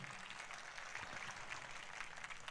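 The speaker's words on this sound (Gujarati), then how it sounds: "આનાથી વધારે જબરદસ્ત તાળીઓનો આવકાર થઈ જાય" Crowd applause at a political rally in Patan, a faint, distant, even patter of many hands clapping throughout.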